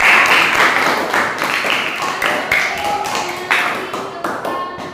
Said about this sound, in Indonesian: Bagus, tepuk tangan untuk Kak.